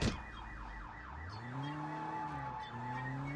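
A car alarm wails after a car is stolen in Sleeping Dogs, its siren tone sweeping up and down in steady repeating cycles, fairly quiet, with engine noise underneath.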